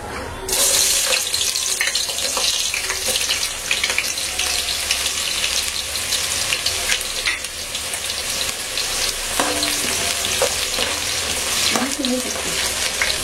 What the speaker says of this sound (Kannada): ಒಗ್ಗರಣೆಗೆ ಈರುಳ್ಳಿ ಹಾಕೋಣ